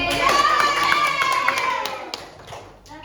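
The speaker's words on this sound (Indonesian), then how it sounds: "Ya, tepuk tangan untuk Bapak." A classroom of students applauds and cheers during a microteaching lesson, a brief close burst of clapping with children's excited voices.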